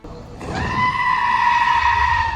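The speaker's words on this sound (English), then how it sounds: "that blob monster did the goat scream" A blob monster in the film Moana 2 lets out a long, loud goat-like scream, a sustained harsh bleating tone that rises sharply and holds steady until the end.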